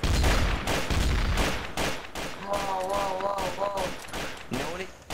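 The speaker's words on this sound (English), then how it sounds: "I'm shooting a poster and making a smiley face" Gunfire in the video game Trouble in Terrorist Town, a steady run of shots peppering a poster, loud and close, with a voice talking over and between the bursts.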